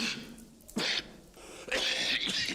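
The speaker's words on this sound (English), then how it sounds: "That's a rather nasty cough you have there." A person coughs in a quiet interior, two or three harsh, raspy bursts with short pauses between them, close and fairly faint, with no talk over them.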